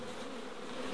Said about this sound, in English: There's not too many bees up here anyway.